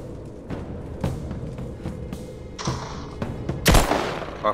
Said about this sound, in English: I'm just gonna load a pistol up and shoot him